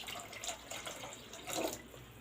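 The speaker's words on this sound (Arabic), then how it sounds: "زودي الميه شويه، زودي الميه شويه ما تخافيش" Water poured into a cooking pot while making Egyptian-style orzo pasta with chicken liver and gizzards, a soft steady splash and trickle running through the whole stretch, fairly close with no talk.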